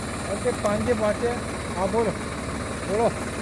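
A tractor engine idles on a farm field in Konkan before ploughing, with a steady low drone throughout, while someone talks over it.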